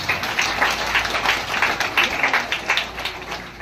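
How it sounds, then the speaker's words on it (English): A crowd claps at a school recognition day for K-11 students, a brisk, dense burst of applause that holds steady before easing off slightly at the end. "applause"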